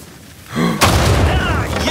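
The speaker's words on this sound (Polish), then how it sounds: "Najpierw wybuchły z lewej, potem wybuchły z prawej." Explosions in the video game Uncharted 4: a quieter lead-in, then a heavy booming blast bursts in and rolls on with loud rumbling debris to the end.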